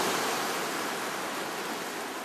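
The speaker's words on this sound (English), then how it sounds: "with the waves coming in, lapping at my feet" Ocean waves roll in and lap the shore at Steep Point, the most westerly point of the Australian mainland, giving a steady, close wash of surf hiss that eases slightly and carries no talk.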